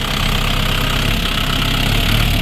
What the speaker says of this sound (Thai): เครื่องยนต์จะเป็น 62 แรงม้านะครับ เป็นเทอร์โบนะครับ